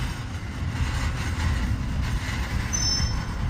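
A train slowing near a rail yard, a low steady rumble of rolling cars with a brief high brake squeal late on, heard from trackside.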